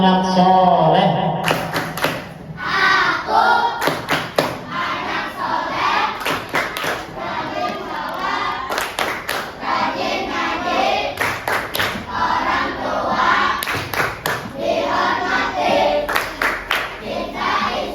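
Primary schoolchildren in an Indonesian classroom chant and clap in rhythm together, a loud and steady group performance of repeated claps and voices that carries on for the whole stretch.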